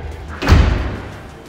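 A rear access door of a model home in West Jordan, Utah swings shut with a single close, solid thud, then a short fading room decay; no talking.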